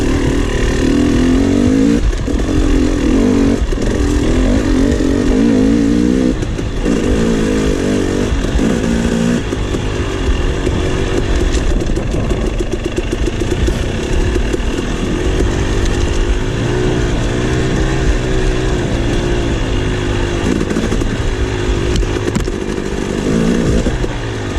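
A KTM 300 XC two-stroke dirt bike engine runs loud and close during a trail ride, with a continuous buzzing drone that rises and falls as the throttle opens and eases, and no voices.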